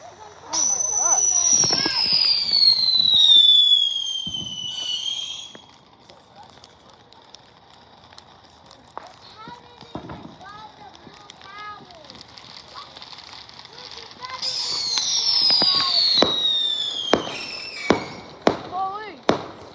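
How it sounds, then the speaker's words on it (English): Fourth of July fireworks bursting in a neighborhood, with loud whistling rockets rising and sharp crackling bangs in repeated volleys, alternating with quieter stretches of distant pops; people exclaim nearby between the blasts. "My neighbors have stocked up on the fireworks."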